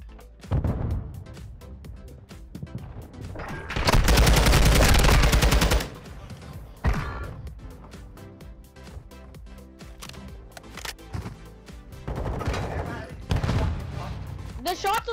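Loud bursts of automatic gunfire in a Call of Duty match, including one long sustained volley and several shorter rattling bursts, with players talking between the shots.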